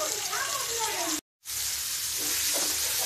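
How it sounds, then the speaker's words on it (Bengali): Spice paste for a poa fish bhuna curry fries in a pan with a steady, close, hissing sizzle that cuts out briefly and then resumes, a voice faint beneath it. "তো মশলাটা কষিয়ে তারপরে আসছি।"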